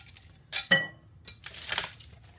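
Ice cubes clink and rattle against a bowl while being broken up and stirred in for bread and butter pickles, with a couple of sharp close bursts of knocking followed by a longer scraping jumble.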